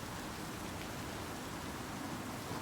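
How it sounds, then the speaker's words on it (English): Steady rain hisses softly in Cyberpunk 2077: Phantom Liberty, a faint, even wash of falling water with no other sounds. "it's raining"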